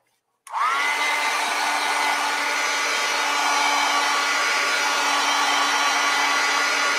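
Hair dryer clicks on abruptly and blows continuously to dry a watercolor painting of a glass of lemonade, a loud, steady whooshing whine held close for several seconds with no talk.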